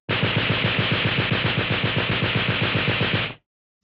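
Rapid machine gun burst sound effect, a steady rattling stream of shots at an even fast rhythm, loud and close, running about three seconds before cutting off abruptly, with no voices.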